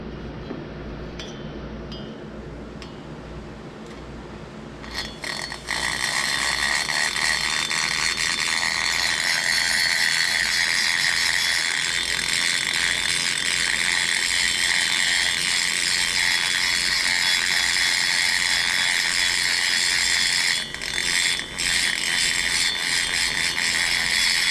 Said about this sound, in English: we'll get set up over here at my other station and do a little grinding on this thing